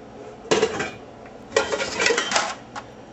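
Pots and pans are handled in a kitchen, with a few clattering metallic knocks and clinks in short bursts, close and fairly loud, and no speech.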